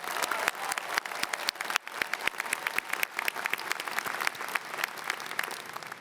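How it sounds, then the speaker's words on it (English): A crowd applauds steadily at a university commencement, many hands clapping together in a dense, sustained round of applause. "Can we give them all a big round of applause?"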